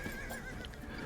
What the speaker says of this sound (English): I heard a horse sound